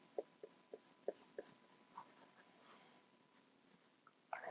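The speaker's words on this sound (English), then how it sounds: "So I'm going to draw the top of the clay pot." A pencil sketching the top of a clay pot on paper: faint, short scratchy strokes in quick sequence, then a pause and a slightly louder rub at the end, close and quiet.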